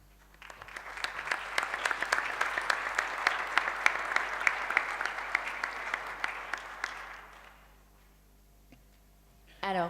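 Delegates at a model UN assembly applaud in a hall, a dense, steady burst of clapping lasting most of the stretch before fading out, with a brief noise at the very end.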